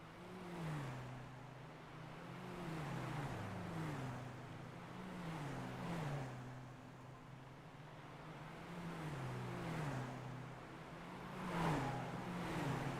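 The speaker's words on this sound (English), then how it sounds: "Listen to that engine." Several diesel VW Jetta Cup race car engines roar past one after another at Lime Rock Park, rising and falling in pitch as each passes, with a steady crowd and track din underneath.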